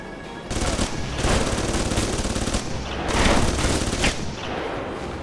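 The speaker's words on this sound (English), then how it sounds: "All of these are tracer bullets" Sustained automatic gunfire from tracer rounds in the video game Alpha Protocol, dense rapid bursts running almost nonstop with brief lulls, loud and close.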